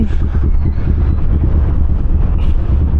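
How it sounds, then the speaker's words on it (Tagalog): Heavy wind buffets the microphone on a Kawasaki Versys 650 ride, a loud, low, continuous rumble pressing against the helmet with steady gusting and no pause. "Grabe, sobrang lakas ng hangin."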